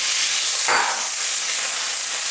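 Peppers stir-frying in hot groundnut or vegetable oil, a loud continuous sizzle with a brief sharper hiss surge as the vegetables are tossed.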